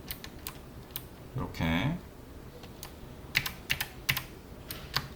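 Computer keyboard and mouse clicks while masking a model in ZBrush, with sparse, sharp, close clicks scattered across the clip and a brief spoken word partway through.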